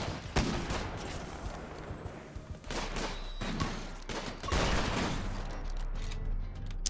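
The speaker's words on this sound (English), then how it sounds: "Getting a lot of like very scary sounding gunshots." Bursts of RimWorld gunfire, rapid volleys and single cracks at varying distance, some loud and near, others muffled, over a constant low rumble.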